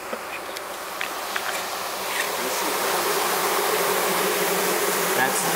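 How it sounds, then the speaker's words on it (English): Honeybees buzzing steadily and densely while being installed into a new hive, a continuous swarm drone that swells slightly louder over the second half, with no talking. "Apparently the bees were supposed to crawl into the hive."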